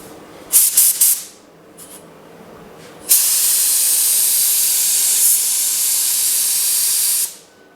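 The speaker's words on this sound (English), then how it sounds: "let me mix up some epoxy and get this spraying before it gets too late" A steady, loud hiss of a spray gun applying epoxy primer to a Pontiac GTO firewall runs for about four seconds, preceded by a few short bursts of spraying.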